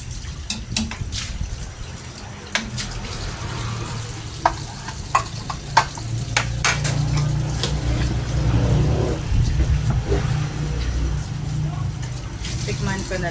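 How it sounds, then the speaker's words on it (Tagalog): Cooked fish fillet tossed in sweet and sour sauce in a pan, with a steady sizzle and soft stirring under the cook's ongoing talk and scattered sharp utensil clicks. "ito-toss ko na yung niluto ko na fish fillet"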